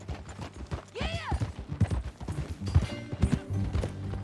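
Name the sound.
horse hooves in video game Red Dead Redemption 2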